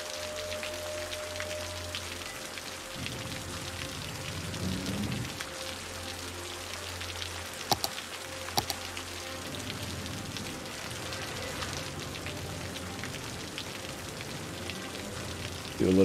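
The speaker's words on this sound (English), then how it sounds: "Why is it still raining?" Steady rain in the game Cities: Skylines patters on a surface throughout, with a low rumbling drone underneath and a couple of sharp clicks near the middle.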